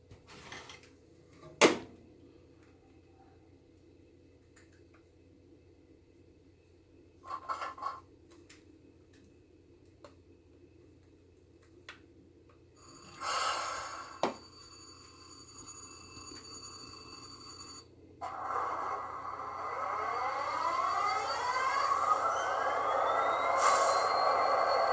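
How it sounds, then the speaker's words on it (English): Model railroad locomotive fitted with a Tsunami 2 sound decoder, an NS SD70 diesel, giving sharp horn-like tones and clicks before its engine sound swells into a rising, continuous rumble, faint and without talk. "So this is the Tsunami 2. It sounds a lot better than the standard Tsunami ones."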